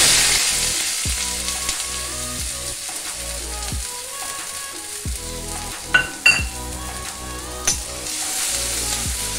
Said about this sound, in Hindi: मसाला बनाने के लिए प्याज को हम अच्छी तरह भून लेंगे।